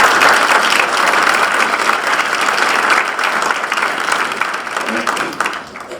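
An audience at a military change of command ceremony claps steadily in sustained applause, a dense wash of hands that slowly tapers off.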